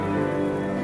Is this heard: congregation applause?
no